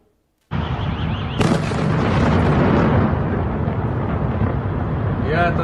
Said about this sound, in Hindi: एक बार बहुत ध्यान से इस विस्फोट की आवाज को सुनिएगा।